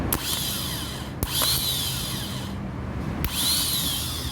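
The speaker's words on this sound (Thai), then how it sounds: "ตอนนี้ก็เทสมอเตอร์ก่อนนะครับ แรงนะครับแรง" Repaired Toyota Vigo starter motor spinning on a test bench, a loud, high-pitched whine that starts abruptly, holds steady, and restarts sharply in short repeated bursts.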